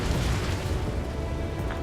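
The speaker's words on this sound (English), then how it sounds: "Mage 2, missile away." Missile launch and explosion in the Ace Combat 7: Skies Unknown flight game, a sustained low booming rumble that holds steady and loud throughout, with no voices.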